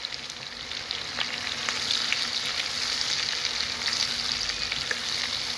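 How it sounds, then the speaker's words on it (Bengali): Raw mango pickle, seasoned with salt, turmeric and chilli powder, sizzles in a pan while it is stirred. A continuous close frying crackle runs under occasional scraping clicks of the spoon, and no one speaks. "তো এটা দিয়ে একটু আমি ভালো করে হালকা করে নাড়িয়ে নেব।"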